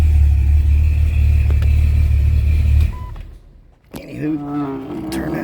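A supercharged Jeep XJ running on E85 idles with a loud, deep rumble that cuts off midway, followed by a person talking nearby.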